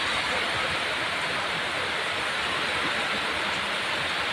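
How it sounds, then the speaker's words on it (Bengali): Dense, unbroken roar of heavy rain falling close by under an overcast sky, steady and loud with no voices. "আজকে আমাদের এখানে বৃষ্টি আসছে, প্রচুর বৃষ্টি।"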